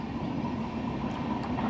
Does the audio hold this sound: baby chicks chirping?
no